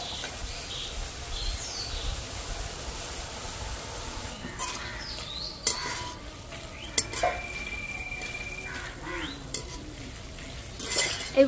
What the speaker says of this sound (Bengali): এইভাবে করে ভেজে নিতে হবে বাকিগুলো।